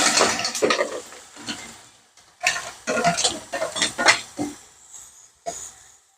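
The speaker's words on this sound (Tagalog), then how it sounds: "Lagay na natin ang ating green shell." Green-shell mussels tumbling into a pan of tomatoes, giving clattering shell knocks and wet sizzling scrapes in several bursts, close up and fairly loud.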